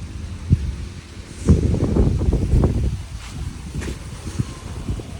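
Gusts of wind buffet the microphone in low, rumbling bursts, rising and falling over a few seconds with faint rustling behind.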